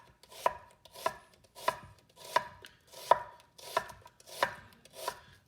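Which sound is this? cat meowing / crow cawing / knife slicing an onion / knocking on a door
knife slicing an onion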